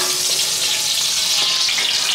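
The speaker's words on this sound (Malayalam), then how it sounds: "ചെമ്പ് ചൂടായിട്ടുണ്ട്. നമുക്ക് അതിലേക്ക് എണ്ണ ഒഴിച്ചു കൊടുക്കാം." Coconut oil sizzles in a hot copper pot over a wood fire, a close, continuous bright crackle and hiss with small popping bursts scattered through it.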